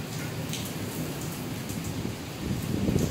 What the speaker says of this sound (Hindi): बस बारिश हो रही है